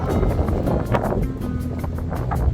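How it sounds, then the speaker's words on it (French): Strong wind buffets a handheld microphone outdoors on a walk in Málaga, giving continuous loud rumbling gusts with a faint, rhythmic background pulse and no voices. "Je sais pas si vous allez m'entendre avec le vent, il faut que j'achète les micros"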